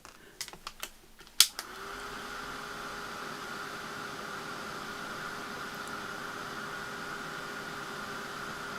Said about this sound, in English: The more you do this, the hotter your heat tool gets and the quicker it goes.